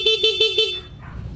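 A Raider FI motorcycle's stock horn beeps four times in quick succession, short, bright and nasal, then stops, leaving faint background noise.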